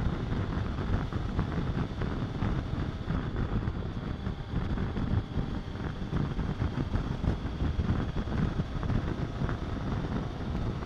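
A motorcycle cruising at about 100 km/h on the Kunigal highway, a continuous roar of engine and rushing wind buffeting the microphone, steady throughout with no talking.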